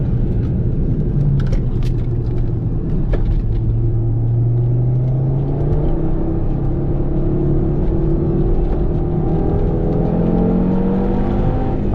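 An Audi TT RS engine pulls hard on a race track, a loud, steady rumble with rising pitch as it accelerates, heard from inside the car throughout without talk.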